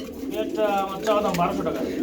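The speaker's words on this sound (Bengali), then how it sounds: "টাইগার কালারের মধ্যে গুল্লা কবুতর" Tiger-coloured gulla pigeons coo close by at a market stall, their throaty rolling calls mixed with nearby talk and background chatter.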